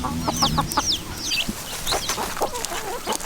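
Several chickens clucking and chirping close by, with high peeping calls from baby chicks scattered throughout, over a busy farmyard background, as they wait to be fed.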